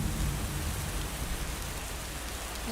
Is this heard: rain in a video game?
yes